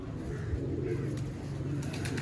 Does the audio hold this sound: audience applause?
no